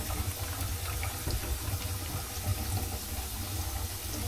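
Water rushes steadily through a newly installed sink drain pipe, a constant loud splashing flow with no talking.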